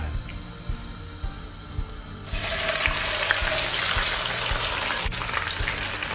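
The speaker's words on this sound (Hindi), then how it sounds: "अब हम इसमें ये मैरिनेट किया हुआ चिकन डाल देंगे।" Marinated chicken drops into a hot pan with whole spices and bursts into a loud, steady sizzle partway through, following quieter cooking clatter. The frying stays strong to the end.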